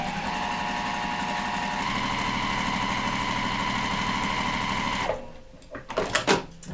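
A sewing machine runs steadily at speed, stitching across the corner of a quilt square, then stops and gives way to a few soft handling knocks and rustles near the end.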